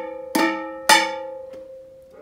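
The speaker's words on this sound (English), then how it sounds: "If you have a tin, you can even try turn it around and let's play on the other side" Two sharp metallic strikes ring out with a sustained pitched tone, followed by a softer tap and a faint rattle, like a tin being tapped.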